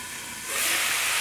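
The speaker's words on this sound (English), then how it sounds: "The sizzle of the mushrooms is good because that's how it gets brown on the bottom." King oyster mushrooms sizzle in a hot pan, a steady, fairly quiet hiss that swells louder midway and holds, with no one talking.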